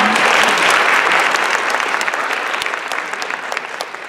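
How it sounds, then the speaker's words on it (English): An audience claps for a stage mental-math act, a burst of dense, full applause that starts loud and slowly thins out over a few seconds. "give them a round of applause"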